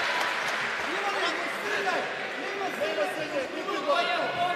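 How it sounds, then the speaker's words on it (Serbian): Crowd noise from spectators cheering and shouting support for fighters during a boxing match, a continuous busy roar of many voices with scattered calls rising and falling throughout. "Čuli smo i publiku koja pruža podršku borcima, pre svega Vičiću."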